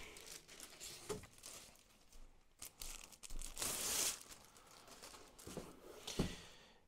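A Klipsch SPL120 home cinema subwoofer being unboxed: soft crinkling and rustling of plastic and paper packaging with scattered tearing and crunching handling noises, close and fairly quiet, without talk.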